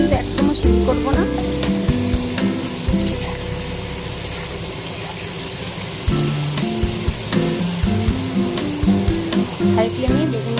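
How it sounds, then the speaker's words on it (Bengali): Eggplant pieces fry in a pan over a high gas flame, a loud continuous sizzle with stirring clinks throughout, heard up close alongside tonal background music or hum. "হাই ফ্লেমে বেগুনগুলোকে ভাজবো।"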